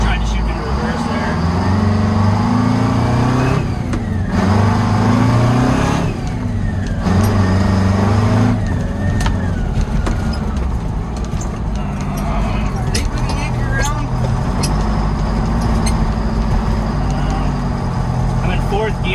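A Detroit 8v71 two-stroke diesel truck with a 13-speed transmission pulls along with a deep engine drone that rises and drops through several gear shifts, with a voice talking over it throughout.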